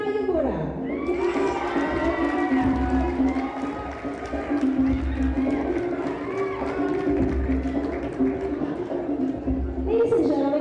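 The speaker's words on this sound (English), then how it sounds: "A round of applause for Yuta Yamura." Pageant audience cheering and shouting for a Mr. Landscapes International 2018 contestant at a Philippine coronation night, a loud, sustained crowd roar with whoops and high voices and a brief lull midway, with no clear clapping standing out.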